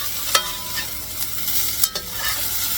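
A steady sizzle of food frying in a pan, with a few sharp clicks and scrapes of a utensil stirring through it, close and moderately quiet with no voices.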